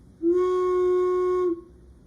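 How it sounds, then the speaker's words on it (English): A wooden whistle is blown once, giving a steady, clear single-pitched tone held for just over a second before stopping abruptly. "This wood whistle produces a sound with a certain frequency when blown."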